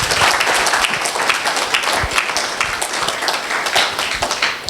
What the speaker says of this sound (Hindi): एक बार तालियां तो बनती ही बिल्कुल।